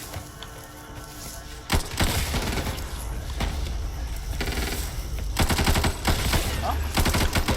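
SMG gunfire in the co-op zombie shooter Back 4 Blood, with loud close bursts of rapid automatic fire and single shots recurring over several seconds amid game noise.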